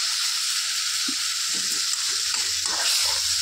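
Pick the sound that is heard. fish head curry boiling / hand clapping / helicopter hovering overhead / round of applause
fish head curry boiling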